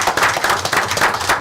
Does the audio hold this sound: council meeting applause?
yes